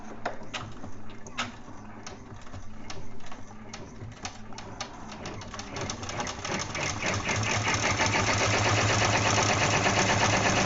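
An embroidery machine stitches an appliqué luggage tag with glitter material, a steady rapid mechanical chatter of needle strokes that grows louder and denser toward the end, with no talking over it.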